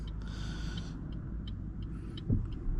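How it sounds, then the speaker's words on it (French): A van approaching quickly on a road in Riom, heard from inside a car as a steady rumbling vehicle noise with a passing swell near the end. "La camionnette elle arrive vite"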